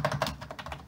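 Quick computer keyboard typing, a short run of about six soft clicking keystrokes in less than a second, fairly faint and with no voice.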